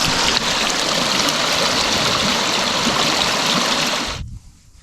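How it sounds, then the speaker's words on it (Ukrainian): A mountain stream fed from surrounding peaks along the Carretera Austral in Chile rushes loudly and steadily nearby, a dense broad wash of flowing water that cuts off abruptly near the end. "Тут чимало таких струмків і всі вони течуть з вершин довкола."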